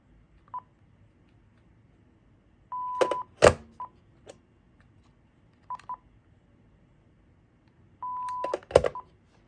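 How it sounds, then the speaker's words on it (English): Several short electronic key beeps from a Uniden D1660 phone keypad, some single and some in quick pairs, over faint background hiss, with a couple of sharp clicks. "on this one you actually hear the key tone when that happens"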